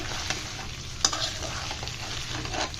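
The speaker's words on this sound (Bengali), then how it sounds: "মশলা সব মশলা একসাথে মাখিয়ে তারপর ফ্রাই করে ফেললাম" Spice-coated pieces mixed with tomato and masala fry in a pan, giving a steady close sizzle with a sharp scrape of stirring near the middle and a few softer clinks.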